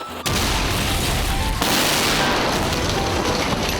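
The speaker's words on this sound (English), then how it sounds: "Caravan completely blown apart" A caravan filled with acetylene and oxygen gas explodes beside a snooker table, a sudden loud blast followed by a sustained roar of debris and rumbling that carries on to the end.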